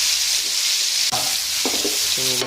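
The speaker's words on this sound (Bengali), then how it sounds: "এখন তেল গরম হলে চিংড়ি মাছগুলো এক এক করে সব দিয়ে দেব" Prawns frying in hot oil in a frying pan, a constant close hiss and sizzle with a few sharp crackles and metallic clinks toward the end.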